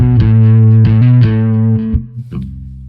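Electric guitar played through a Neural DSP Nano Cortex pedal, a distorted, effected tone with a few sustained chords or notes that ring out and then stop, followed by a brief softer strum.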